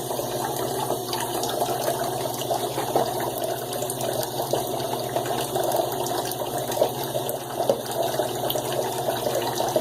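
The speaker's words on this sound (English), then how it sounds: "Let's add a little bit of water." Water trickles steadily into a shaving brush lather made with Diablo soap, giving a continuous, fairly loud wet wash with no voices.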